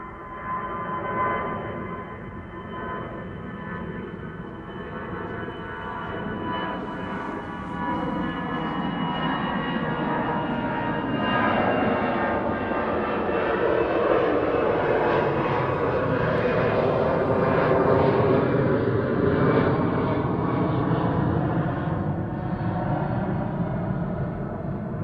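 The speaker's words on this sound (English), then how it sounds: "A319, already airborne" An Airbus A319 climbing out after departure from Amsterdam Schiphol, its engines a steady, loud broadband roar that builds and holds for the whole stretch with no talk over it.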